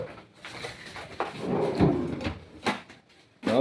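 A second drawer on an aluminum cabinet with wood finish slides and knocks shut, a close rolling scrape with a few sharp clacks, somewhat quieter, with a final burst at the end.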